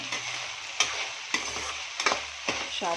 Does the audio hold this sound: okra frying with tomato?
yes